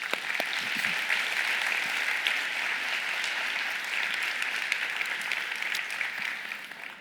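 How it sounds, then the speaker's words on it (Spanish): A church congregation claps together in steady, sustained applause that fills the room for several seconds and tapers slightly at the end. "Podemos dar un aplauso a Jesús en esta mañana."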